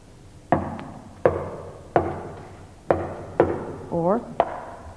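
Knuckles rapping a rhythm on the wooden body of a double bass, giving six sharp hollow knocks in an uneven pattern, close and loud. A brief voiced sound comes in near the end.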